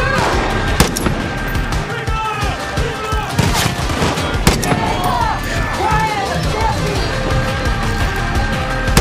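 Gunfire in the video game Far Cry 5: repeated sharp shots and bursts crack out through a continuous busy mix of game sound, with occasional louder bangs standing out and voices speaking at times.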